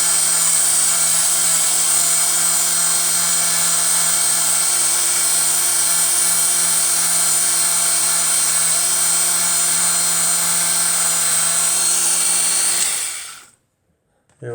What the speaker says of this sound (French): petit coup de ponçage avec une brosse souple